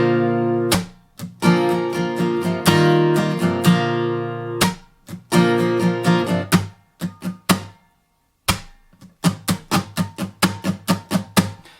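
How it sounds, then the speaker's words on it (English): Acoustic guitar played with a percussive slap strum, a driving rhythmic pattern of ringing chords punctuated by sharp muted slaps, with brief pauses between phrases and a rapid run of hits near the end, close and loud. "you can do a simple slap strum and it sounds like this"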